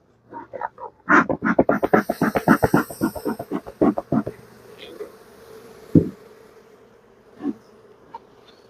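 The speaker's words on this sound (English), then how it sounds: "I'm going to smoke these guys down and put the supers on top" Honey bees buzz around an open hive while it is smoked before supers are added, with a dense burst of close buzzing that thins out into scattered faint buzzes and occasional knocks.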